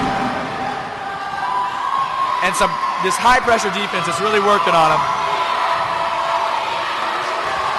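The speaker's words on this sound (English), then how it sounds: "You can hear the Baldwin crowd now" A high school varsity boys basketball crowd from Baldwin cheers and roars in a gym during a sub-state playoff game, a steady swell of voices under a commentator talking throughout.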